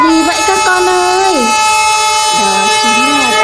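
Loud horn-like tones hold steady throughout, with a lower tone that bends and glides in pitch. The sound fits a train horn sounding close by.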